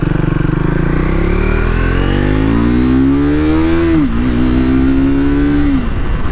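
A Triumph Thruxton motorcycle accelerates hard in first gear, its loud, close engine note climbing steadily in pitch, briefly dipping, then holding a high rev before easing off.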